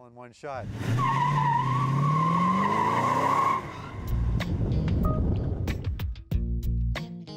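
A 1970 Plymouth Road Runner Superbird's 7.2-litre V8 roars loud and close, with a rising revving tone over a steady exhaust growl and tyre squeal, then a rougher, choppier stretch of engine noise near the end.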